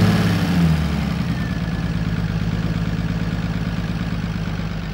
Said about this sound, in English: we've plugged the pump back in and we'll see whether it cranks over, and more importantly, whether it fires